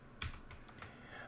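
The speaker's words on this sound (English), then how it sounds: "I'm going to press the minus key" Computer keyboard keys are pressed in a few quick, crisp clicks and clacks, close and fairly loud against a quiet room.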